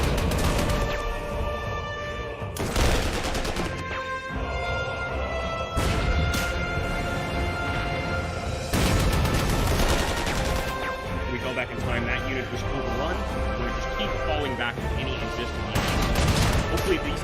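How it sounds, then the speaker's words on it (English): Anti-tank cannons in Panzer Corps 2 firing on T-34 tanks in a 1943 Axis operation: loud, dense battle noise of repeated heavy blasts and crackling gunfire under game music, steady throughout with several strong bursts. "Anti-tank cannons will start destroying those T-34s."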